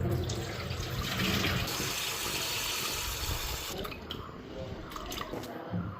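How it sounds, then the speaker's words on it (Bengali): Rice is rinsed under running tap water, a continuous close splashing and trickling that stays steady throughout with slight shifts as the grains are stirred. "তো ভালো করে আগে চালটা ধুয়ে নিই 2-3 বার।"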